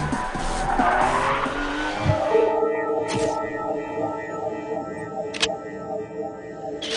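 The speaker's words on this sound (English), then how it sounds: "All you're aware of is the ever-present blistering acceleration." A Ferrari 599 GTB Fiorano's engine roars under hard acceleration, loud and close, with rising gear tones and a couple of sharp transient bursts as the revs climb.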